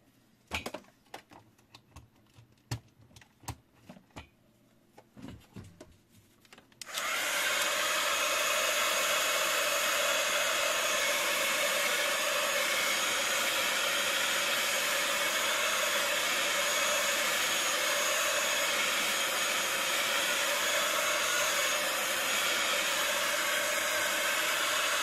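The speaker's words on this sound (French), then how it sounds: "l'encre Versafine est très très très forte. Ce qu'il y a, c'est que je voudrais le sécher" Steady loud whoosh of a hair dryer blowing over stamped Versafine ink, starting after several seconds of faint clicks and handling noises and then running continuously without any speech.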